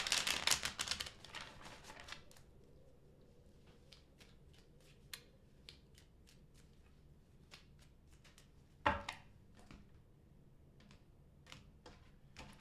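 Tarot cards are shuffled in quick, close, papery flutters, first as a dense riffle, then as scattered light taps and snaps with another burst later on; quiet, with no talk.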